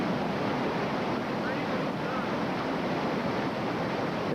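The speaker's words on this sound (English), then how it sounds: "they're loving it up here at Stair Step Rapids" Whitewater rapids at Stair Step Rapids on the Youghiogheny River rush in a constant, dense roar close by, with wind noise and voices faintly mixed in.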